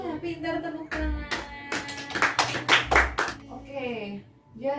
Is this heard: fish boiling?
no